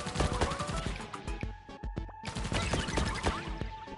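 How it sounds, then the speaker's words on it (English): Rapid, continuous minigun fire from the arcade video game Pang Adventures, a dense stream of loud synthetic shots with a brief break near the middle before the firing resumes. "We get the minigun and we fire the shit out of that"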